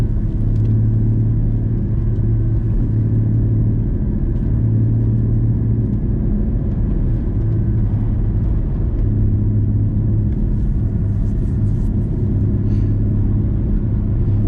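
A Porsche GT4, a rear-wheel-drive sports car, cruises along a snowy, semi-treated road, its engine a steady, loud low drone with road rumble throughout, without speech.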